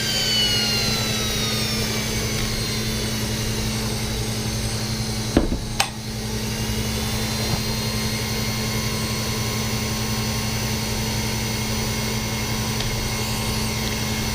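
KingTech 160 G4 model jet turbine in its cool-down sequence with the starter motor running continuously: a steady, loud mechanical whine with constant hum, briefly interrupted by a sharp knock midway, no talk.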